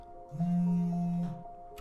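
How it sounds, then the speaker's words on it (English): A low, steady buzzing hum lasts about a second, like a phone vibrating, fairly quiet and alone. "this is basically the sound effect of a phone vibrating."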